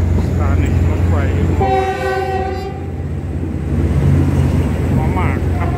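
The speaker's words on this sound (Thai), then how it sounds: "รถกำลังเคลื่อนออกจากสถานีรถไฟ" A Thai passenger train pulling out of a railway station, with a sustained horn blast in the middle over a constant loud rumble and rattle of the rail cars heard from on board.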